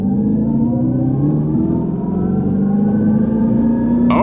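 A 2025 Dodge Charger Daytona R/T electric car accelerates hard with its power shot boost, giving a loud, steady synthetic drone that rises slowly in pitch, with a burst of added noise at the very end.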